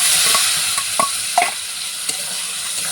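Pointed gourd tipped into a hot pan of reddened onions and chili, frying with a steady close sizzle and a few sharp stirring knocks of a utensil against the pan.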